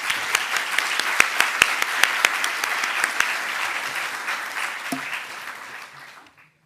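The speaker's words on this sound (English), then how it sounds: "So I'd like you to applaud yourself." Dentistry graduates applaud at their declaration ceremony, a dense sustained crowd clapping with a few sharp near claps standing out before it fades out at the end.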